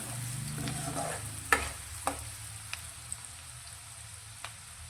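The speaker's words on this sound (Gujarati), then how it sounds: "તો ડુંગળી આપણી થોડી સંતળાય, થોડી આછી ગુલાબી થાય ત્યાં સુધી તેને સાંતળીશું।" Chopped onions sauté in a pan for a green tomato curry, cooking toward light pink. A soft, continuous sizzle runs underneath, broken by a few sharp clicks and scrapes of stirring.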